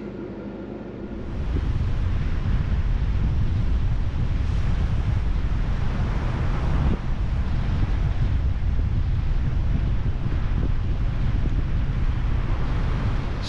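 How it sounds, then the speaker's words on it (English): Strong wind on a beach by the ocean buffets the microphone in a loud, continuous roar, with a quieter, calmer moment right at the start. "So windy."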